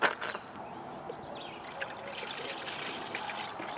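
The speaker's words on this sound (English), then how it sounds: "watch and listen for water coming out of the bottom" Coolant water trickles and dribbles out of the bottom of a Nissan Titan radiator during refilling, a soft steady splashing stream that runs on quietly at close range with no talk over it.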